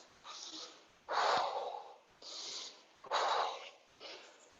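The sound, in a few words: heavy breathing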